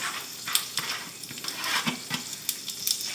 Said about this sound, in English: So we're going to go ahead and put this bacon in the frying pan.